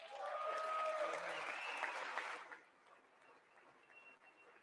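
Applause fills a large chamber at the State of the Union address, a steady wash of clapping that fades after about two and a half seconds into quiet room tone.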